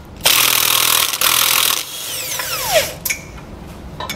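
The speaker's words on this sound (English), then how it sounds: "We're going to use a 3/4 inch socket to remove them." Power tool removing 3/4 inch brake assembly bolts during a trailer disc brake kit installation: two loud, steady whirring bursts with a short gap, followed by fainter metallic clinks and a high squeal, with no talking.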